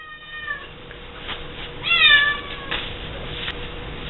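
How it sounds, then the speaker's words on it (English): A cat meows several times, with one louder, rising meow in the middle standing out against faint room noise. "And that's the cat."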